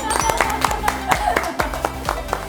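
A small group gives a round of steady hand clapping during a talk about a Hyundai Motor and Seoul National University contract program, the claps quick and even over a humming background.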